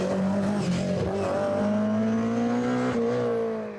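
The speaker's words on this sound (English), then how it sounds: "Next through the wonderful sounds and grunt of the Forenza" A Forenza rally car passes on a special stage of a historic rally in Killarney, its engine note droning loudly and steadily as it goes by, then rising and fading slightly, heard alone with no voices.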